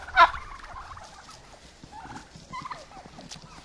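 Domestic turkeys and hens gobbling outdoors in a village yard in late autumn, a sharp close gobble followed by a few quieter gobbling bursts over faint rustling.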